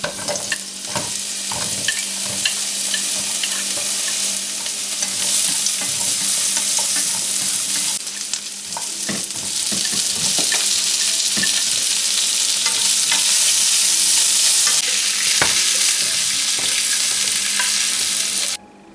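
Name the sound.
stir-frying scallion, ginger and garlic in oil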